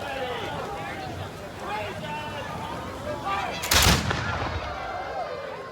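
A loud musket volley from historical reenactors at a Plymouth Thanksgiving parade cracks out once, a single sharp blast with a brief rumbling tail, heard over outdoor crowd chatter and street noise.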